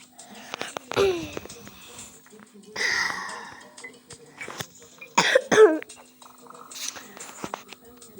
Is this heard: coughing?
yes